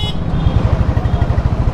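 Loud street traffic right next to a Royal Enfield motorcycle, with a nearby engine thumping in a fast, regular pulse and a horn note near the start.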